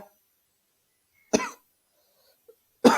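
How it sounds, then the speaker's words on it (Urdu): Two sharp, loud coughs from a man reciting and teaching Quranic tajweed, spaced about a second and a half apart in an otherwise quiet room, each a short harsh burst with a faint small throat noise between them. "معذرت کے ساتھ کھانسی لگی ہوئی ہے تو اس کے لیے سوری"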